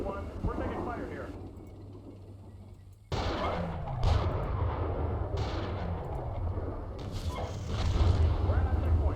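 Gunfire and artillery striking tanks in the Steel Beasts Pro tank simulation game: heavy booming impacts and rumbling blasts, with a sudden loud onset partway through and sustained roaring noise, while radio voices talk over it.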